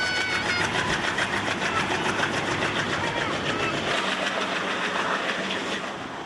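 A passenger train grinds slowly through a zigzag reversal on the mountain railway from Lima to Huancayo in Peru, a loud steady roar of wheels and engine with faint rhythmic clatter, close by and without speech.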